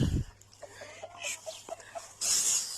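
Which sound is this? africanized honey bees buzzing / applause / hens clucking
hens clucking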